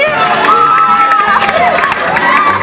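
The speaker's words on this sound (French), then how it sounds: "Les applaudissements, mesdames et messieurs, pour la nouvelle Miss Burundi" Loud crowd cheering, whooping and shouting at the crowning of Miss Burundi 2017, steady and dense throughout with high excited voices rising above the roar.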